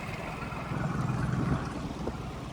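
A Carolina Skiff 16 boat idles in gear on its first outing, giving a steady low engine rumble mixed with wind and water noise, moderately loud and unbroken, with no talking.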